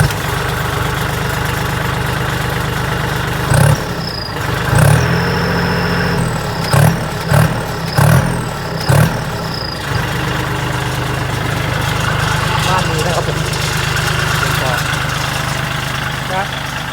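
Loud, rough Kubota tractor engine with twin straight-through exhaust pipes idling, with a burst of sharp revs and pops in the middle, then settling back to a steady rumble; voices can be heard faintly.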